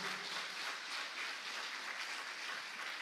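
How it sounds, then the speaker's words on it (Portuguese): A church congregation applauds in praise during a worship service, a steady wash of soft, dense clapping heard from a distance and fairly faint, with no voices over it. "Vamos aplaudir ao Senhor"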